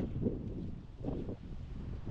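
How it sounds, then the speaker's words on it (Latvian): Strong wind blows during an autumn fishing outing, a continuous low rumbling gusting against the microphone, swelling in two broad surges and fairly faint overall, with no voices heard. "Jā, mums ir ļoti liels vējš."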